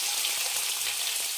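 Dense hiss and light crackle of a little oil heating in a pan, steady and close.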